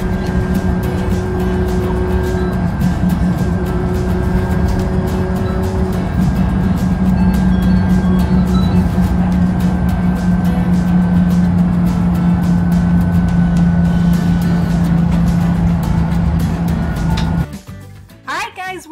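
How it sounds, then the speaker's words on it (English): A bus engine drones steadily with road rumble for about seventeen seconds during a trip to the zoo, a loud continuous low hum that cuts off near the end; no speech is heard over the ride. "we gotta take a bus to get to the zoo."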